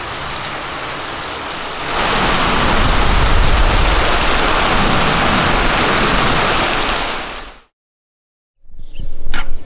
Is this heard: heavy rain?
yes